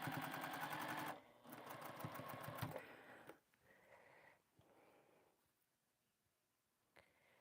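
A sewing machine winds a bobbin with a steady, fairly loud whir that runs for about three seconds, then stops. Fainter handling noises and short clicks follow, with a brief renewed whir near the end.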